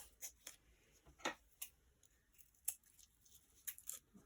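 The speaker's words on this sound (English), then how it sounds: "need to sharpen my scissors clearly." Scissors cut through masking tape with several quick, dry snips spaced irregularly, close and fairly quiet, with no talk.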